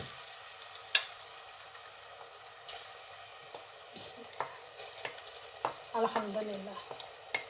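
Ginger garlic paste goes into hot oil for a potato and egg curry, giving a quiet crackle with scattered spoon clicks and scrapes as it is stirred, and a brief spoken word.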